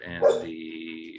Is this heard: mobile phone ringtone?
no